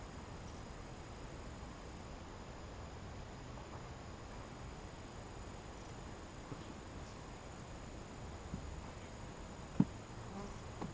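Honey bees hum in a steady, quiet drone around an open hive during a first-year beekeeper's inspection on an overcast day, with a faint tonal whine and one sharp tap near the end.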